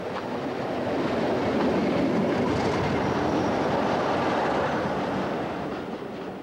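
Class 31 diesel locomotive 31162 working in tandem with Class 47 47401 at Butterley on the Midland Railway, a steady loud rumble of engines and rolling wheels passing close by, sustained throughout.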